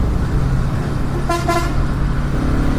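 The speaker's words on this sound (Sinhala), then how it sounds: "පස්සයක් එනවා බං හෝන් ගගා" Two quick horn toots from a vehicle coming up behind a motorcycle on a Sri Lankan road, loud and close above constant engine and wind rumble.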